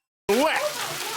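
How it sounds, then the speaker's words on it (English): A wicked hail and rain storm pours down outside, a dense, steady hiss of rain that starts abruptly and holds, with a voice briefly sounding over the start. "It's hailing. There's water."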